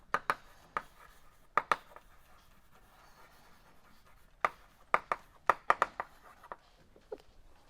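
Marker or chalk strikes and scrapes on a board during a mathematics seminar come in irregular bursts of short taps and strokes, with quiet pauses between clusters, recorded at moderate distance.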